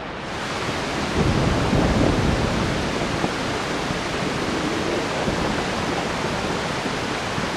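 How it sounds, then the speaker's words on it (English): Rain and thunder in Dirge of Cerberus: Final Fantasy VII, a steady dense downpour hiss filling the whole span with a low rumbling swell of thunder early on, loud and continuous with no voices. "this is the first time I've ever felt the rain on my skin"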